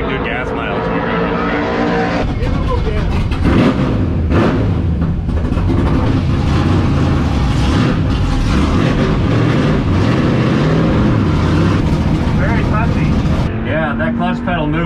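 A classic NASCAR stock car's V8 engine runs loud and steady at Rockingham Speedway, a continuous roar with a few rising revs, while people talk nearby over it.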